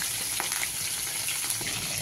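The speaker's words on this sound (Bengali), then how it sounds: "দিয়ে দিলাম মাছের মাথা, দিয়ে দিলাম ডিমটা, একসঙ্গে ভাজা হয়ে যাক।" Fish head and fish roe fry together in oil, a dense, close, even sizzle that holds steady throughout with no voices.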